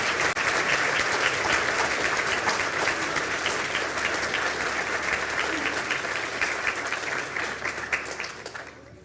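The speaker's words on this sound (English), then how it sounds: "please stand for a round of applause" A crowd at a university conferring ceremony applauds steadily for several seconds, the clapping dense and even before tapering off at the end.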